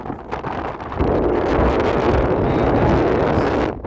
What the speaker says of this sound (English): Holy shit, it is really windy.